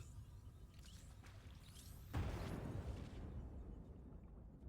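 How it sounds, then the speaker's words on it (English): In the game Star Wars: The Old Republic, after a rumbling, crackling buildup, a loud explosion bursts out, followed by a long, roaring, debris-filled rumble that slowly fades. "Explosions."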